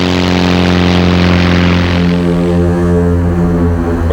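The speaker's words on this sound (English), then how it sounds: "airplane engines" A loud, steady engine drone with strong low harmonic tones, shifting slightly in pitch midway, like a propeller aircraft running continuously.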